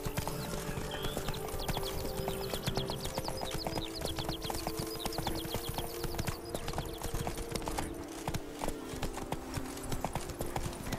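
Roach the horse gallops in The Witcher 3, hooves pounding in a fast, steady clip-clop rhythm close by, with a brief whinny and no talking over it.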